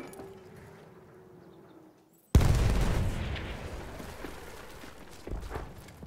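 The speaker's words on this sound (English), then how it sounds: "wonder if you can blow this up" A single loud, booming explosion in the Battlefield video game as an object is blown up. It bursts suddenly after a quiet lull and then trails off into a long, rumbling wash of debris and echo.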